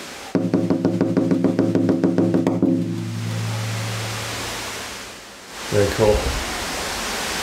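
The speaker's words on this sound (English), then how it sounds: "The waterfall built into a temple." Waterfall built into a Japanese temple: a steady broadband rush of falling water that follows a rapid ringing metallic sequence at the start, with a short burst of nearby talk near the end.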